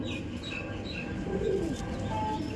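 Soft cooing of Madrasi pigeons as a bird is released, with a few faint chirps and low rustling in a moderately noisy setting.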